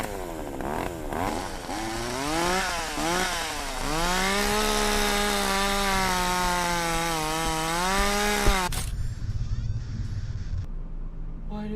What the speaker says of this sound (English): Why does this thing have a chainsaw?